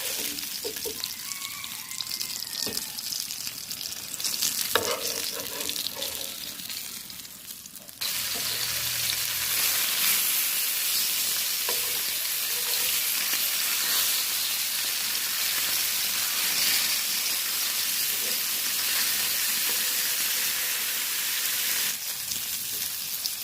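Tilapia fish pieces fry in oil in a kadai, giving a dense, continuous hissing sizzle that jumps louder after a few seconds and keeps roaring steadily, close up, with no voices.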